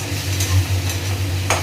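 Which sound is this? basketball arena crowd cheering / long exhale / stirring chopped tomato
stirring chopped tomato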